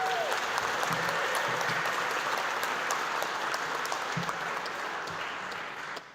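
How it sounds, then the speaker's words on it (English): A large audience at a council inauguration ceremony applauds after a lion dance troupe and kapa haka performance, dense sustained clapping that fills the room before fading out at the end. "big round of applause for our amazing performances this evening"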